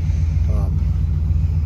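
A 1967 Pontiac Bonneville convertible drives down the road with a steady, deep engine rumble heard from inside the car, loud and continuous, with a faint voice briefly under it.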